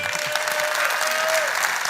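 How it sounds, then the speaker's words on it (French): Dense, continuous audience applause at an innovation congress award moment, a large crowd clapping steadily and loudly. "Naïma, on pourrait quand même applaudir Naïma"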